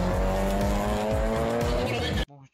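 Race cars tear off the line at a roll race event in the Dominican Republic, engines screaming loudly through rapid upshifts before the sound cuts off abruptly.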